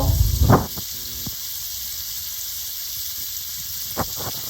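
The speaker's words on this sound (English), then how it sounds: "Love to hear that sizzle." Steak sizzling in a hot pan for Tournedos Rossini, a steady hiss at moderate level with a brief louder burst at the start and a couple of faint pops near the end, no voices.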